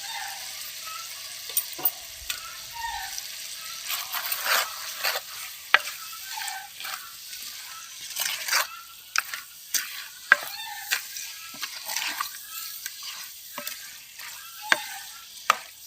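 Country chicken curry with ground chilli and coriander masala frying in a pan while being stirred, soft sizzling under repeated scraping and clinking strokes of a spoon, close and moderately loud.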